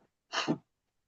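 A single short human sneeze, close and fairly soft, with a quick sharp burst and then silence.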